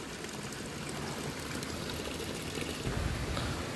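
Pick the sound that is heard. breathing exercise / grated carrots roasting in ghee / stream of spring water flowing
stream of spring water flowing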